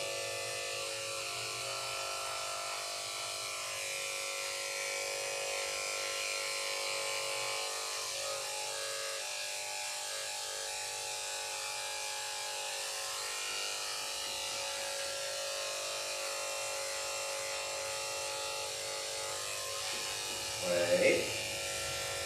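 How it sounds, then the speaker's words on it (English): Electric clippers buzz steadily and close by while shaving between the toes on the underside of an elderly Miniature Schnauzer's paws. The faint, continuous hum runs throughout, with a small rustle near the end. "I am shaving the underside of between her toes"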